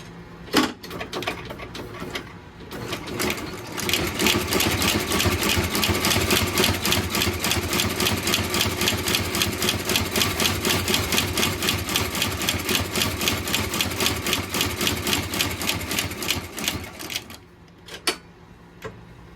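A rethreaded embroidery machine stitches in a fast, steady mechanical clatter that runs for about fifteen seconds, then slows and stops, with a few isolated clicks at the start and end, close and prominent.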